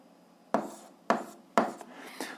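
Chalk or marker strokes writing an algebra equation with x squared on a board, a few distinct tapping, scraping marks in an uneven rhythm, close and clear with no talk.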